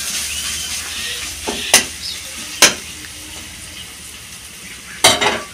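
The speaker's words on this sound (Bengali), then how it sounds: "পেঁয়াজটা আমার ভাজা হয়ে গেছে, এবার আমি মশলাটা দিয়ে দেবো।" Spices added to a pan of fried onions in oil set off a steady close sizzle, broken by a few sharp clinks of a spoon against the pan, with no talking.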